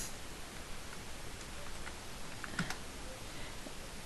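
Code being typed on a computer keyboard, a faint, quick run of soft key clicks with one sharper tap, over low room hiss.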